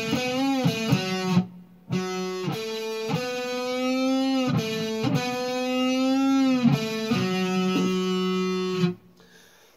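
Distorted electric guitar playing a lick, with sustained bent notes sliding up and releasing, separated by brief pauses, close and loud without any talking.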